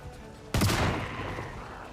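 A single loud gunshot aimed at zombies in the Project Zomboid game, sharp onset with a ringing decaying tail over quiet background.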